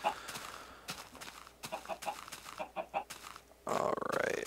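Minecraft chickens cluck in short, scattered bursts at close range, quiet individual clucks spaced irregularly, ending in a louder, denser stretch of game noise.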